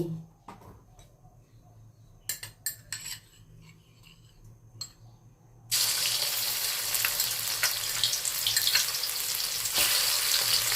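A few kitchen clinks and taps, then a loud, steady sizzle of oil frying in a hot wok starts suddenly and keeps going, while cooking a Thai stir-fried beef with basil.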